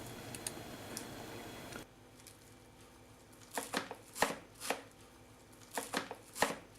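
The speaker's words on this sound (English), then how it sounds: "Now we're going to chop the celery and cilantro." Celery and cilantro chopped on a board, a run of crisp knife strikes in an uneven rhythm, close and clear, after a brief stretch of background noise at the start, with no talk.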